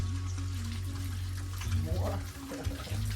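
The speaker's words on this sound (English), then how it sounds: "Water." Water runs steadily from a tap into a basin while clothes are washed by hand, a continuous hiss with some splashing beneath a droning background hum, and a voice speaks briefly.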